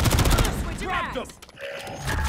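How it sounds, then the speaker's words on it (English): Heavy rapid gunfire from a Modern Warfare 3 beta multiplayer match, with loud crackling bursts, a brief lull in the middle, then renewed volleys. "I'm taking fire!"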